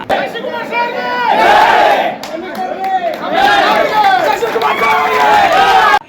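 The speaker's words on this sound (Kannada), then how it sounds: "ಖುಷಿ ಖುಷಿಯಾಗಿ ಜೈಕಾರ ಹಾಕುತ್ತಿರುವ ಸಾರ್ವಜನಿಕರು" A large public crowd in Hubballi cheers and chants slogans in praise of a police commissioner, loud and close, with rising shouted waves and overlapping voices in repeated bursts.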